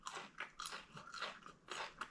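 Crunchy stir-fried green beans, blanched and quickly cooked in sauce, chewed with crisp repeated crunches in a steady biting rhythm, close up with no talking.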